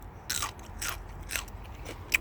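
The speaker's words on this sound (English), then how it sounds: "We're going to take this one and I'm going to eat it right now and you can listen." Crisp, fresh, sweet bean bitten close up in a garden: about four short, sharp crunching bites and chews, fairly quiet, with no talk.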